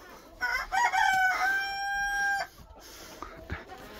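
A rooster on a rural farm lets out a loud, drawn-out crow close by, while two chickens fighting make scuffling, clucking noises around it.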